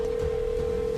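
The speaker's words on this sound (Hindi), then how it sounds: "देव ने सुजॉय की बातों को इग्नोर करते हुए पुलिस ऑफिसर से एक फोन कॉल की परमिशन मांगी और किसी को कॉल किया।" Telephone line tone in a Hindi audio drama, a single steady electronic hum held alone and evenly for about a second at moderate level.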